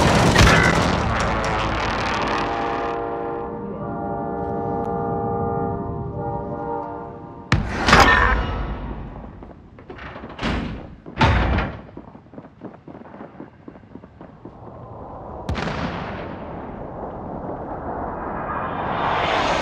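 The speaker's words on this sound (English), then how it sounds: "Precision airstrike, take cover!" Precision airstrike explosions in Call of Duty Warzone: a long sustained roar, then a series of sharp heavy booms spaced a second or two apart, followed by a rising rushing blast, loud and near.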